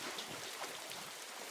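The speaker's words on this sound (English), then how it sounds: "Oh, I think it's raining." Soft rain hisses steadily in the Roblox game Berry Avenue, a faint, even wash of falling water with no distinct drops standing out.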